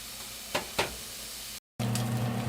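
Bacon hitting a hot pot and sizzling for clam chowder, a steady close frying hiss with a couple of sharp pops or clatters early on, then a brief gap before the sizzle resumes louder.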